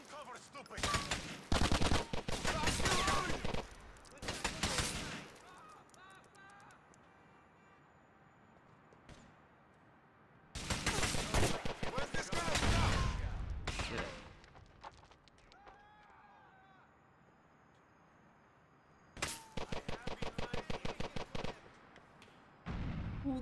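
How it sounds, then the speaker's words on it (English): Rapid bursts of gunfire and heavy blasts from GTA: The Ballad of Gay Tony come in three loud, dense volleys with quieter rumbling and scattered shots between them. "Is somebody shooting rocket launchers?"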